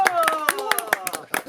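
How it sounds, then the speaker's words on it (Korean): A small group of people claps hands at an outdoor rural gathering while wood-fired country chicken cooks in a cauldron. Quick, uneven bursts of claps mix with a voice talking over them. "박수!"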